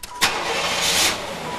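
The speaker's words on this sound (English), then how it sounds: "set the park brake and start the engine." A Buick's engine starts with a brief cranking burst, then settles into a loud, steady, close-up run for the remaining second or so.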